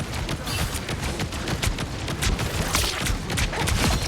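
Rapid bursts of explosive firework blasts and crackles fire continuously in a dense barrage in the game Marvel Rivals, loud and close.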